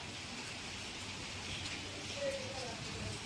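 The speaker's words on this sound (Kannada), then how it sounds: "ಆಮೇಲೆ ಬರುತ್ತೆ ನೋಡಿ ಮಳೆ ಹೆಂಗೆ ಹೊಡಿತು" Heavy rain pours down in a steady, dense hiss that stays even and fairly quiet throughout, with no clear voices over it.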